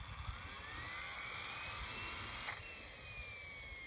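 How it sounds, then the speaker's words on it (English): A Whiplash model turbine engine's cooling fan runs after shutdown at an outdoor flying event, a steady whine with rising and falling tones over a rumbling background, no talk. "It just runs the fan and it keeps doing it back and forth."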